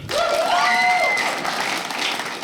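A stand-up comedy crowd breaks into a dense wash of applause from start to finish, with a brief high whistle or squeal rising over it early on, loud and close.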